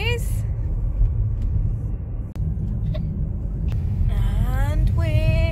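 A car driving slowly through the Busch Gardens Tampa parking lot, with a low, steady engine and road rumble throughout, a few sharp clicks, and a voice near the end.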